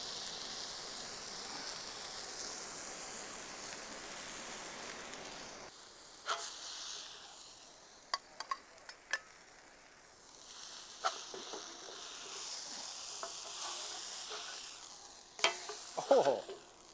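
Smashburgers topped with cheese and jalapeño sizzle on a cast iron griddle, a steady close hiss that softens partway through, broken by scattered taps and scrapes of a spatula.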